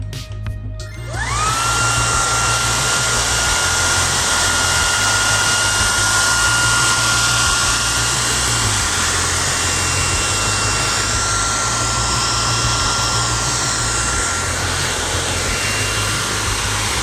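A Redroad cordless stick vacuum cleaner whirs steadily and loudly after a quick spin-up, its motor whine holding a constant pitch from start to finish with no talk.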